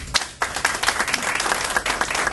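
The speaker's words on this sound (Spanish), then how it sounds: "Un fuerte aplauso para ellos." An audience at a press conference breaks into applause, dense clapping from a crowd that stays full and steady throughout.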